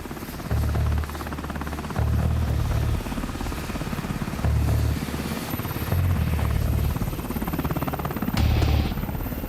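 A helicopter's rotor thumps and engine whine fill the air continuously, with the heavy beating swelling and fading in pulses.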